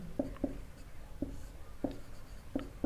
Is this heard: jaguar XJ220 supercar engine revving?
no